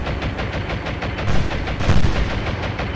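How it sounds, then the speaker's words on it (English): Aircraft strafing battleships in the naval combat game War on the Sea, a rapid, continuous rattle of machine-gun fire with heavy low rumble, loud and close, swelling slightly toward the end. "they're strafing our battleships"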